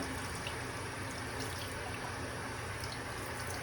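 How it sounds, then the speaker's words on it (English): Hands are rinsed under a running tap during a sterile lab handwashing routine, a soft continuous water stream with faint splashes, no voices. "now first we're just going to rinse our hands really quickly, making sure we're maintaining that position"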